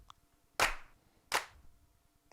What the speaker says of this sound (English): as well as by the pre-chorus, some claps.